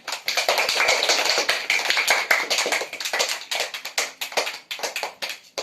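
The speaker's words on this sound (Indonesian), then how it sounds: "Oke, tepuk tangan untuk kita semua." An audience at an Islamic preaching session in Indonesia claps together, dense close hand claps in a steady sustained burst that thins into rhythmic bunches toward the end, with no talk over it.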